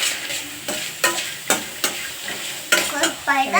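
Sago upma ingredients, onion and chilli among them, fry and get stirred in a pan, with repeated scraping strokes of a spoon at a steady rhythm over a soft sizzle.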